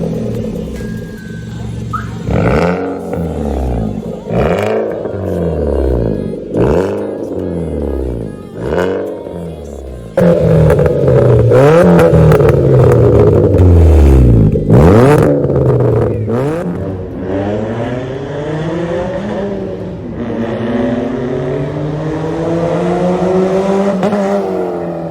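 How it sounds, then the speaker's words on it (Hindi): Hyundai i20 fitted with a modified aftermarket exhaust, revved up close in a series of loud rises and drops, then held at higher revs with a throaty, wavering drone toward the end. "गाड़ी की आवाज़ मैं आपको सुनाता हूँ।"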